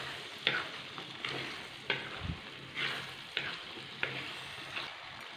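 Boiled lemon pickle being stirred in a pan over a medium flame, with a steady soft sizzle and repeated scraping strokes of a spoon or spatula at a roughly regular rhythm, close and moderately quiet, no voices.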